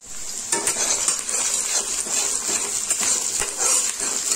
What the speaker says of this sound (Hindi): प्याज को लाइट ब्राउन होने तक फ्राई करेंगे मीडियम फ्लेम में और बीच बीच में चलाएंगे।